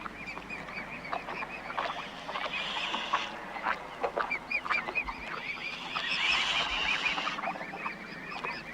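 A swan in aggressive display gives repeated harsh snorts and hissing honks in irregular bursts, moderately close, with no voices.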